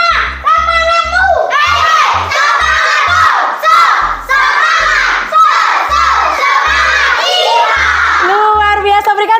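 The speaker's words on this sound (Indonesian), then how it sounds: "Ayo, biar kita semua semangat, kita lakukan dulu yel-yel penyemangat." A classroom of children shouts a rhythmic motivational cheer chant in unison, loud call-and-response bursts with pauses, a teacher's voice leading between them.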